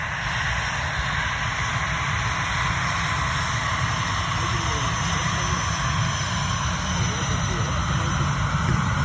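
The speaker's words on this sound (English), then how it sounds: "That Ryanair took off" A Ryanair airliner taking off, a steady broad jet engine roar at a distance that runs the whole clip without pause, with people talking.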